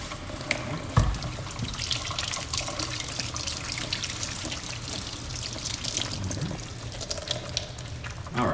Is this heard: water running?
yes